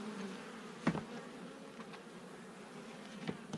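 Honey bees hum around capped honey frames at a hive during a summer harvest, a low steady drone with a couple of brief louder knocks or bumps close by.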